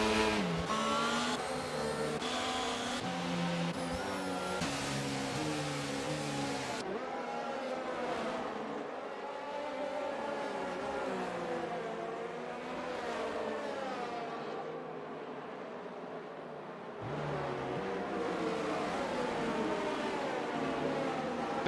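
Race cars from a Dutch Grand Prix in a Schumacher Series racing game drive around the track, engines droning and shifting pitch continuously as cars pass, with no clear pauses.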